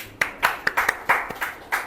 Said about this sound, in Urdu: سب سے پہلے مفتی صاحب کے لیے تالیاں